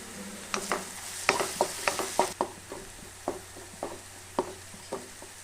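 Onions sautéing in a pan with cinnamon, cloves and cardamom added for an egg curry, a faint sizzle beneath a series of spaced utensil scrapes and taps against the pan.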